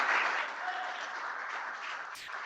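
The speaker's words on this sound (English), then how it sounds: "A big round of applause for the big man." Audience applause at a founder showcase event, a steady wash of clapping from a crowd lasting a couple of seconds, moderately loud and continuous without any talk over it.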